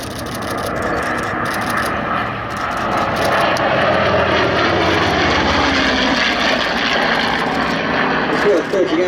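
Propeller aircraft of three different types drone overhead in a formation aerobatic display by the Flying Bulls at the Sywell 2024 airshow. The engine roar swells and stays steady, with voices heard over it.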